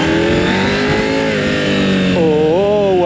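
A KTM 790 Adventure motorcycle accelerates hard in first gear, the engine note climbing and wavering in pitch, loud and close, with a rising rev surge in the final second.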